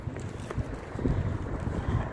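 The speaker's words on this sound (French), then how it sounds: "Il fait un petit peu de vent aujourd'hui" Gusty wind buffets a microphone outdoors on a mild day at a street crossing, a steady low rumble with a few stronger surges and no voices.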